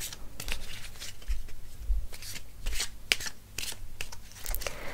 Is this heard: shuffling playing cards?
yes